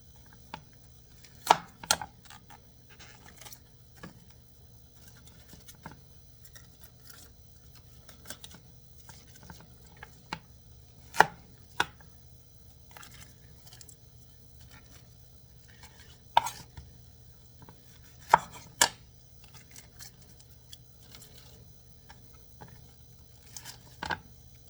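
Bracts being peeled from a banana blossom by hand, producing sparse, irregular crisp snaps and clicks spread over a quiet background.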